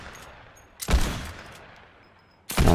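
Video game gunfire from heavy ammo: two loud, close bursts of shots, one near the start and another near the end, with a quieter stretch of background game noise between them.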